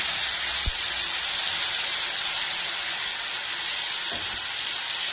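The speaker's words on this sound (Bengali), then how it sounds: "সবার প্রথমে এখানে আমি তেলের ভেতরে মশলাটা দিয়ে দিলাম।" Masala of onion, tomato, ginger and garlic hitting hot oil for a prawn curry, giving a steady, fairly loud broadband hiss and sizzle that continues unbroken throughout, with a couple of faint clinks.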